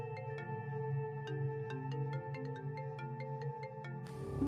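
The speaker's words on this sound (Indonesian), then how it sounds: "Suara telepon itu lagi." Phone ringtone from the video game Sakura School Simulator, a bright repeating melodic tune with crisp plucked notes playing steadily and alone, loud and clear throughout.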